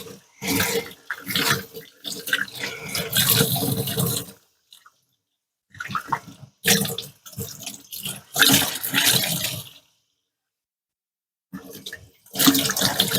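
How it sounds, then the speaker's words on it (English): Bursts of running water rinse cleaner out of a polishing pad, splashing and gurgling in several loud spells separated by short silences. "Make sure I'm rinsing out all the cleaner as well."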